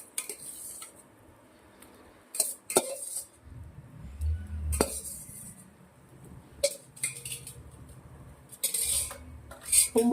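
Eggplant pieces go into a pot of yogurt masala and are stirred with a metal spoon, making repeated scraping clinks and knocks against the pot, close and moderately loud, with brief pauses.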